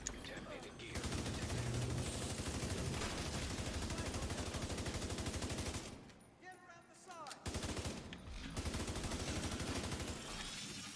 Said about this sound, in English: He's trying to shoot you.